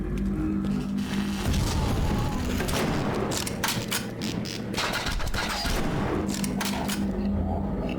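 An explosion in the video game You Are Empty, loud booming blasts amid continuous gunfire-like bursts filling the whole stretch, with a voice talking over parts of it.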